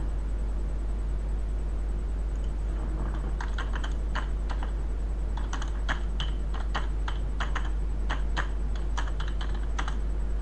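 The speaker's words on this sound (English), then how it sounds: "I was typing in there" Keys on a computer keyboard clatter in quick irregular bursts of typing over a steady background hiss, with no voices present.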